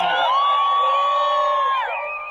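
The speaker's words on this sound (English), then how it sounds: "I have to also ask for a round of applause for those 30 drivers out there that helped us out" A crowd cheers and whoops for truck drivers at a convoy gathering, with high shouting voices loud and sustained for about two seconds before tapering off.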